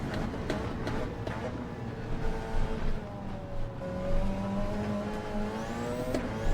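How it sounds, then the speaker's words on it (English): A race car engine revs in a racing video game during an endurance stream, rising and falling engine tones with repeated throttle changes and some tire noise, with a person talking over it. "I'm trying to rev this out and get this car moving."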